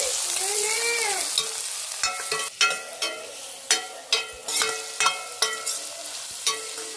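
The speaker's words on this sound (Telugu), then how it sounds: "అల్లం వెల్లుల్లి పేస్ట్ పచ్చి వాసన వంటి వరకు బాగా ఫ్రై చేసేసుకోవాలి" Ginger-garlic paste fries in a pan for chicken sherwa, a broad steady sizzle punctuated by sharp clinks and scrapes of a spoon stirring against the metal, with no voices.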